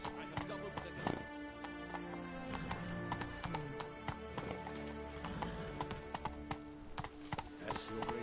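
Roach, Geralt's horse in The Witcher 3, gallops with a quick rhythmic clip-clop of hooves and an occasional whinny, while game music and voices carry on over the hoofbeats.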